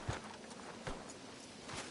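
Soft horse hoof clops in Red Dead Redemption 2 at a slow, uneven walking pace, a few distinct thuds over a steady ambient background.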